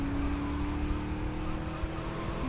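A car driving in GTA Vice City during a mission, with a steady engine drone and a low hum running continuously underneath, with no talking.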